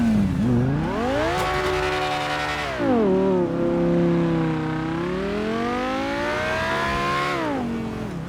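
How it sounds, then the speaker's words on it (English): The Obey 10F, the Audi R8-style car in GTA 5, revs hard with a Lamborghini exhaust note, loud engine pitch rising, dipping and climbing again through repeated pulls. "this is the actual exhaust of a Lamborghini"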